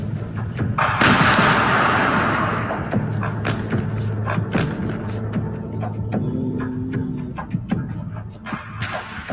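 A sniper shot in an online shooter video game: a sharp, loud crack near the start, followed by scattered thumps and gunfire-like bangs over a busy, rumbling battle mix, with no talk.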